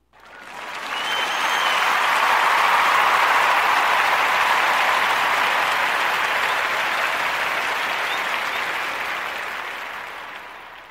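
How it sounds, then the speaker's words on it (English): A round of applause from a crowd swells in quickly, holds steady for about ten seconds, then eases off slightly toward the end, with no voices over it. "I have to give you a round of applause."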